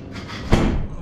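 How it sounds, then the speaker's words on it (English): A door swings shut with a single solid thud about halfway through, set against steady low background noise. "you gonna close the door or not?"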